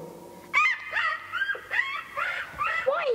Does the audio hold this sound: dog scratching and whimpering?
yes